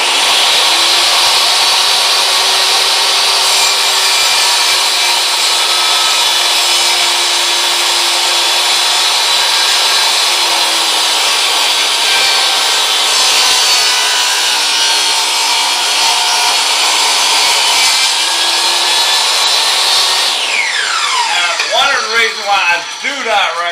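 Power saw cutting a wooden piece down to 3/4 inch in a backyard woodworking setup, a loud continuous high whine lasting about twenty seconds before it winds down and stops.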